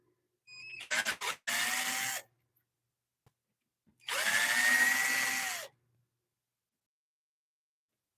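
A power drill spins in bursts while a wood lathe faceplate is removed during bowl turning: a short stuttering trigger burst, a steady whir, then a longer run with a rising and falling whine, separated by silence.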